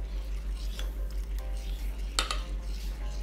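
Cake batter being stirred with a utensil while water is added gradually, soft scraping and clinking against the bowl, with one sharper knock near the end; no talking.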